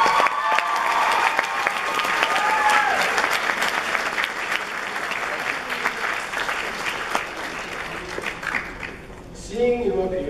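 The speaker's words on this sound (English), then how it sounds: "I want to hear a huge round of applause for the people without whom we would literally not be sitting here today" A large crowd at a high school graduation ceremony gives a long, loud, sustained round of applause for the graduates' parents, dense clapping filling the hall with faint cheers.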